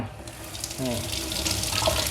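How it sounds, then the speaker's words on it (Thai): Tap water runs steadily over an iMiKi TG1 smartwatch at a sink, a continuous close splashing hiss that grows slightly fuller partway through, with a brief murmur of speech beneath it. "น้ำไหลผ่านแบบนี้แบบสบายเลยนะทุกคน"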